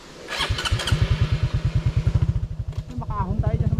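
A motorcycle with a flat tyre runs near a steep uphill road, its engine chugging in a fast, even pulse that grows louder and steadier, while people talk over it.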